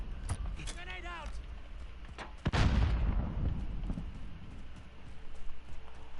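Grenade explosion in Call of Duty Modern Warfare, a single heavy boom with a rumbling tail midway, amid gunfire-like clatter and voices talking throughout.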